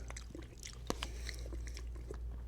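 Close, wet chewing and biting on an Australian Wagyu beef salad, a Lao-Cambodian dish, with soft crunches and mouth sounds repeating steadily over a low background hum.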